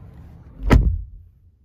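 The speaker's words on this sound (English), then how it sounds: "Now let's close the doors." A 2021 Škoda Karoq door shuts with a single solid thud, close and fairly loud, decaying quickly into quiet with no talk.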